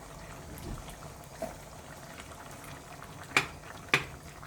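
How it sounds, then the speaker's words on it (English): Cream poured into a simmering pot of cauliflower and cheese soup gives soft, constant bubbling and liquid sounds, broken by two sharp metallic clinks near the end. "So we'll just add the cream to this now. So it's a little bit more liquid."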